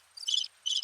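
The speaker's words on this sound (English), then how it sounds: "That's what it sounds like. I'll tell you what, ladies and gentlemen, with the crickets in the background" Crickets chirping in two short, bright bursts of rapid trills, fairly clear and close, alone without any voices.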